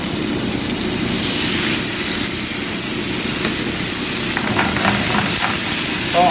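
Sliced lotus root simmers in a reducing sauce in a pan for Japanese kinpira, giving a constant close hiss and sizzle with faint crackles throughout.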